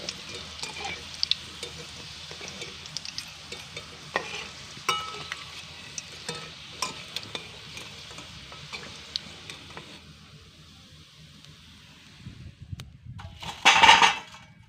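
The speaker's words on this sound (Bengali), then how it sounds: "এইভাবেই সমস্ত কাটলেটগুলো একদম লালচে করে ভেজে তুলে নিলাম" Fish roe cutlets frying in oil, a steady close sizzle with light crackles that fades toward the end, followed by a brief clatter of utensils.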